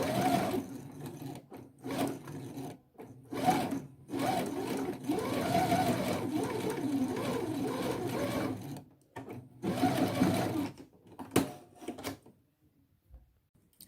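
A sewing machine stitches a pinned yoke onto suit trousers, running in several loud, close bursts of steady whirring separated by short pauses, with no talk over it.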